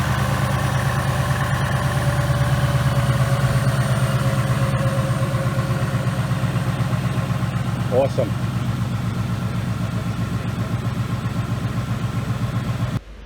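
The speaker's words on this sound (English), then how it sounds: "we're just going to let the car run and warm up for a little while" A 2018 Ford Mustang GT with a newly installed, non-stock engine idles steadily on its first start, a low rumbling drone with a brief voice exclaiming once midway; the engine cuts off abruptly near the end.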